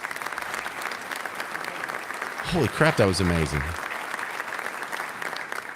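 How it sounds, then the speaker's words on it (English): Steady audience applause fills the room throughout, with a voice briefly exclaiming over it midway. "Another round of applause for that guy."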